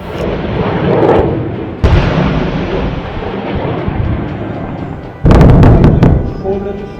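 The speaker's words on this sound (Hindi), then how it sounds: "ये आपने मल्टी रॉकेट लॉन्चर सिस्टम किस प्रकार से दागा गया, इसकी तस्वीरें आप देखिए" Indian Army multi-barrel rocket launcher, including made-in-India Pinaka rockets, firing during a military exercise: loud rumbling blasts and roaring launches, with sharp bursts near the start and a heavy cluster of cracks late in the clip.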